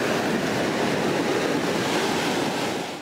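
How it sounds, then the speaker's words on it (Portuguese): Rushing floodwater from a burst dam in rural Aracanduva, Minas Gerais, a loud continuous roar of churning water dragging vegetation and riverbanks, dense and unbroken throughout. "A força da água arrastando vegetação e barrancos assustou moradores da área rural de Aracanduva"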